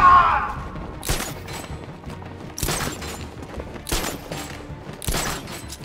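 Gunfire in Batman: Arkham Knight aimed at bringing down an enemy, heard as four loud, sharp broadband bursts spaced about a second apart, each with a short ringing tail, and no talk.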